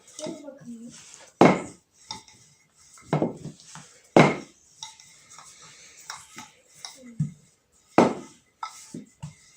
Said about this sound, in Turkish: Şimdi birazcık da merdaneyle açalım